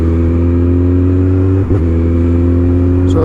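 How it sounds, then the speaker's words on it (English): A supercharged Kawasaki ZZR1400 motorcycle accelerates hard, its engine a loud, steady close drone with a brief dip partway through before the tone carries on. "So as much as I'm accelerating hard"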